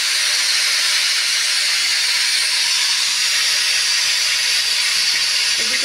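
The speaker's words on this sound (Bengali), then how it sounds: "এদিকে প্রেসারে আমি একটু আলু সিদ্ধ বসিয়েছি।" A pressure cooker boiling potatoes gives off a steady, loud steam hiss that runs unbroken through the whole stretch with no talk.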